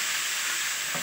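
Bathua greens hitting a hot pan, a brief, loud, steady hiss of sizzling with a faint stir at the very end.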